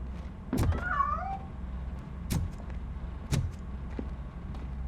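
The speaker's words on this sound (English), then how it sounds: "That cat must be hiding inside." A cat meows once in a RoboCop video game, a short rising cry over a low humming background, followed by a few dull thuds.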